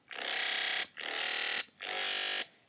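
A harsh, buzzing dubstep synth preset called Deep Throat from the Massive synthesizer sounds in three loud sustained bursts separated by short gaps, bright and grating, with no voices.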